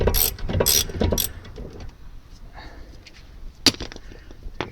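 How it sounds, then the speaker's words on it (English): A ratchet turns a brake caliper bolt on a Lexus IS220 during a front disc and pad job, giving a few quick clicking bursts up close, then quieter scattered clicks and taps. "Using the ratchet to go the rest of the way."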